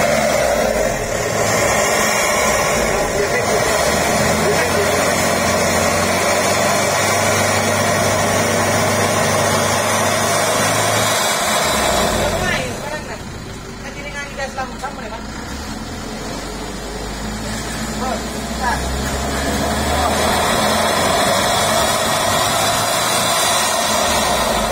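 Isuzu Traga pickup engine held at half throttle, a steady loud mid-pitched drone that dips and settles briefly near the middle before rising again, with someone talking over it.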